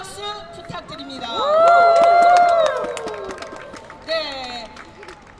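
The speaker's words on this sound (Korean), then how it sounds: "다시 한번 함성과 함께 큰 박수 부탁드립니다." A crowd cheers and applauds at a joint outdoor election campaign rally for a district mayoral candidate, the shouting and clapping swelling to a peak and then easing, with tonal voices and music mixed in.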